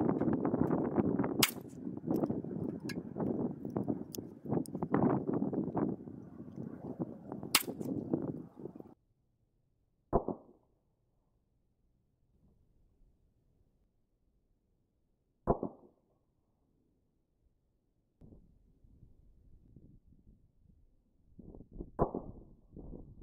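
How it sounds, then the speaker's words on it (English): Shots from a Savage Model 24 combo gun firing 20 gauge shells and 22 Magnum rounds at a range: two sharp, isolated reports a few seconds apart, following a stretch of rustling and handling noise, with more movement near the end. "let's go to the range and put some 20 gauge shells and some 22 Magnums downrange and see how this gun regulates"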